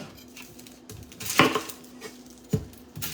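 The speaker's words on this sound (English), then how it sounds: "I'm gonna go ahead and get this onion diced up" A knife dicing an onion on a cutting board for jackfruit tacos: a few sparse, close knocks and clicks of the blade, with two sharper chops standing out over a quiet kitchen.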